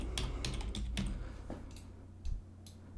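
Keys tapped on a computer keyboard during an Unreal Engine material tutorial, a quick run of close clicks that slows to a few scattered presses, with no talk.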